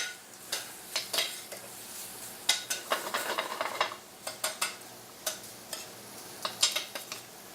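Shrimp for shrimp scampi cooking in a pan, heard as a steady run of sharp clicks, taps and scrapes with a soft sizzle beneath, close by and with no voices.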